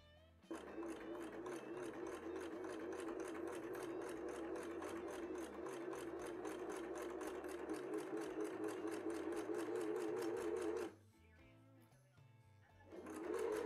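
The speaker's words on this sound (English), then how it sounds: "so everything has been overlocked" An overlocker sewing machine finishing seams on a 1950s-style cosplay dress hums with a fast, steady stitching chatter for about ten seconds, pauses briefly, then starts up again.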